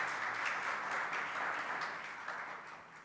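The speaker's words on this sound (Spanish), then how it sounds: "Denle una ofrenda de palmas con todo su corazón." A church congregation applauding during a service, a dense, steady wash of many hands clapping together that slowly fades.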